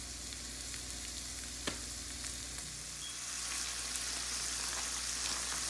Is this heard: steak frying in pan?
yes